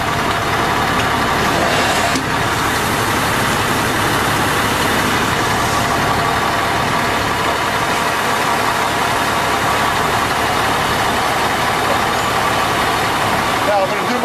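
A fire engine pump charging hose lines set up to a multiversal from a water main, a loud, steady mechanical engine drone that holds constant throughout, with a person talking over it.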